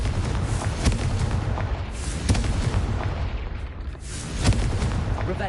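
Confringo blasting spell explosions in a video game: three loud, booming blasts spaced a couple of seconds apart over a dense, rumbling background.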